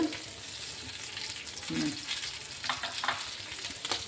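Mackerel (bungude) fish fries on a hot tawa in the Mangalore style, giving a steady close oil sizzle with a few soft scraping stirs.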